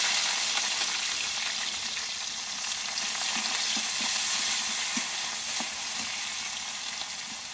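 Sliced onions and green chilies fry in hot oil in a wok already seasoned with bay leaves, cinnamon and cardamom, giving a steady, dense sizzle close by with faint stirring and no voices.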